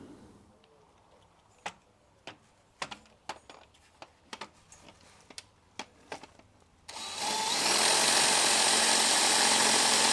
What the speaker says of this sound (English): I'm just going to use a drill bit just to get this started